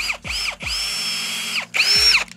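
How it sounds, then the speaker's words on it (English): Power drill boring pilot holes for screws in wood for a homemade squat rack, with three bursts of rising and falling motor whine separated by brief pauses, close and loud. "what I'm doing right now is I'm gonna make a couple of pilot holes for the screws"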